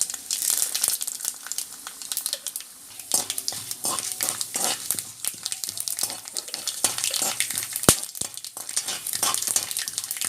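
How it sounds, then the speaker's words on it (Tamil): Mustard seeds, split urad dal and chana dal crackle and sizzle in hot oil in a pan, with dense popping bursts and occasional stirring clinks throughout, close and steady. "இப்போ எண்ணெய் நல்லா சூடாயிடுச்சு. கடுகு போட்டுக்கலாம்."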